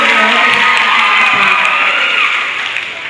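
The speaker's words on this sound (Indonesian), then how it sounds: "tepuk tangan untuk semua dulu" A group of high-school students on a museum visit in Medan breaks into loud, sustained applause mixed with cheering and whoops, filling the whole moment before tapering off slightly at the end.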